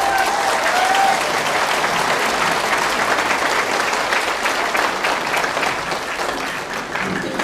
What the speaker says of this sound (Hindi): और जोरदार तालियां अपने लिए बजा लीजिए।